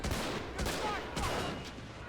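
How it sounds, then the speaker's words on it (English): M1 Garand rifle fire in a Pacific-themed World War II video game battle on Tarawa, several sharp shots ringing out amid a dense, noisy din of distant gunfire. "Can hear lone M1 Garand fire away there."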